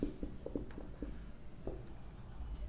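Chalk or marker writing on a board during a lecture, a string of short scratchy strokes and taps, close and fairly quiet, with no talk.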